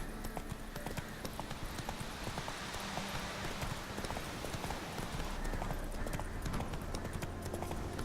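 Hoofbeats of Roach, the horse in the video game The Witcher 3, trotting in a steady clip-clop rhythm, close and continuous with a faint low background.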